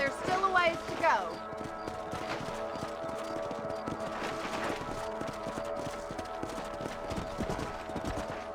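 Horse hooves clip-clop at a steady riding pace while mounted riders patrol a ranch property in the western game Red Dead Redemption, with a brief whinny early on, ongoing game music and a voice talking over it.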